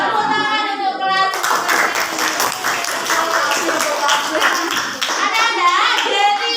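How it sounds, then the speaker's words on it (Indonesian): A school class clapping hands together in a classroom, a dense burst of sharp claps that starts abruptly and continues for several seconds before trailing off, with a teacher and children's voices around it. "Tepuk tangan untuk kelas"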